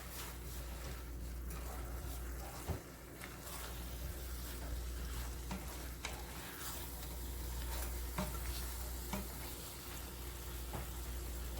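Shrimp and sausage simmering in a skillet give a soft, continuous low sizzle and bubbling, quiet and even throughout with faint clicks and no voices.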